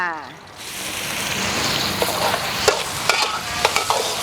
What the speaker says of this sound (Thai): พอร้อน กระเทียมลงค่ะ ลงเจียวให้หอมก่อนนะคะ ามด้วยเห็ดฟางค่ะ